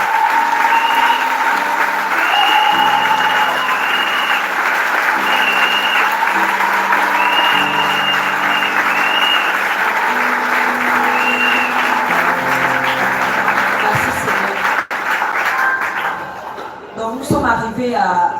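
An audience at a talk show on singleness claps loudly and continuously, with a voice carrying over the applause until it fades out near the end.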